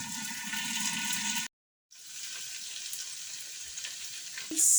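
Pork adobo sizzles and bubbles in a covered pot, a steady close frying hiss that cuts out briefly, then resumes, ending with a louder burst as the lid shifts.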